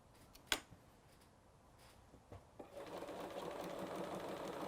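A sewing machine stitches through a quilt, switching between back stitch and straight stitch; a sharp click early on and scattered small knocks give way to a steady, rising mechanical whir toward the end.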